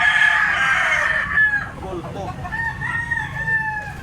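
A blue-legged Lemon 84 bloodline bullstag rooster lets out a loud, close crow, followed by a fainter, drawn-out second crow, with faint background noise and a little speech.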